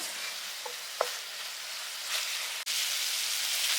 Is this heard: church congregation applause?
no